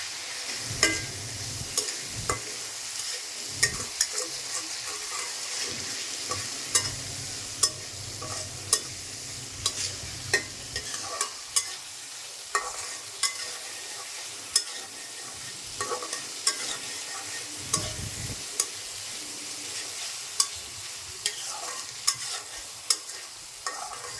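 Turmeric powder fries in oil for a rui fish curry with potatoes, a spoon scraping and stirring the pan in repeated sharp strokes over a steady soft sizzle, with no talking.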